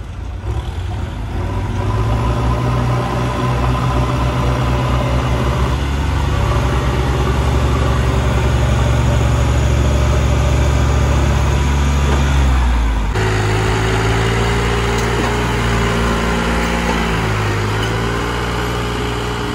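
Tractor engines labor through wet soil during nighttime earth-filling work, with a loud, close, steady diesel drone whose pitch shifts and rises as the load changes, and no talking.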